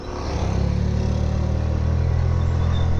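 A scooter pulls away from a standstill under throttle, its engine note rising steadily into a loud, close, continuous drone as it accelerates.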